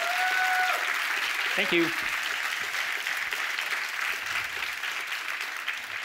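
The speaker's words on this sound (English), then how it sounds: "just give Fernando a round of applause for being so awesome today?" An audience at a branding workshop session applauds steadily, a dense wash of clapping that carries on and slowly fades, with a brief spoken voice near the start over the applause.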